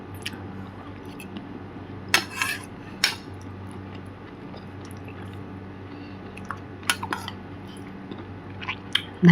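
Someone eats kheer from a dish with metal cutlery, giving soft, wet chewing close up and a few scattered clinks and scrapes of a spoon against the bowl.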